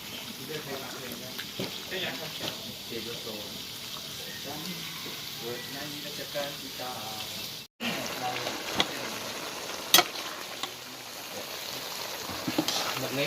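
Pork cooking in a pan for Thai shrimp-paste fried rice sizzles softly and continuously at close range, with brief clinks and a short break partway through.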